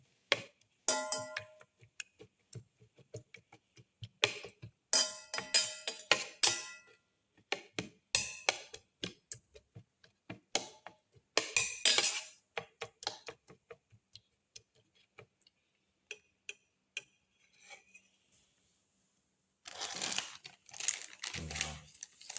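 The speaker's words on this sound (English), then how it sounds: "Thoroughly mix and crush all the ingredients together." Fried rice ingredients with shallots being mixed and crushed together in a bowl: bursts of close, crisp ticking and clattering strokes with short pauses between, moderately loud with no talking.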